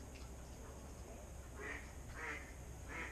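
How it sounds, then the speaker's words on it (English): Ducks quack in short bursts on a pond where they are coming after floating dog food, a few distinct calls near the end over steady outdoor background noise. "We got some duck action going on"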